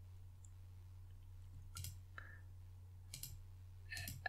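Three crisp mouse clicks selecting Get Data in Power BI, widely spaced over a constant low electrical hum, fairly quiet and close.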